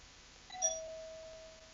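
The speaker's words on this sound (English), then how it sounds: "Oh, my doorbell went off, it scared me" A doorbell gives a single electronic chime that rings out with a clear, sustained tone and fades slowly in an otherwise quiet room.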